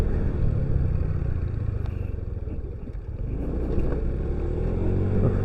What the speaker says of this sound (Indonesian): Motor gue udah mulai geredek nih.